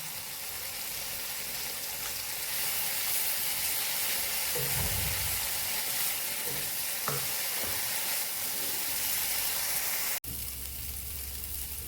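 Spice masala of Kashmiri chili powder and salt frying in a pan for a fish curry, a continuous loud sizzle with occasional stirring scrapes, ending in a sharp cut to quieter low hum.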